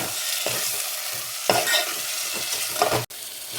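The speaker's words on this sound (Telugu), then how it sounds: "దీన్ని ఇప్పుడు మంచిగా కలుపుకోవాలి." A spinach and rice mixture is stirred in a pot, with soft scraping strokes over a low sizzle, a few louder spoon knocks, and one sharp click near the end.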